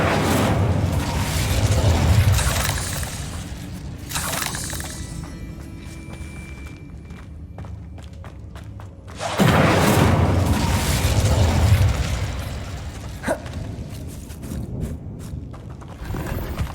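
A fire spell cast in Hogwarts Legacy erupts in two loud whooshing, booming bursts with a roaring rumble that fades into quieter game ambience between them.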